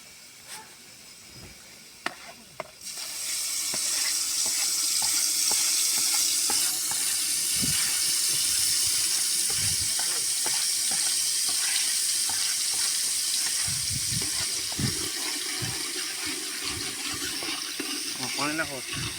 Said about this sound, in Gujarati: પાણી નાખો.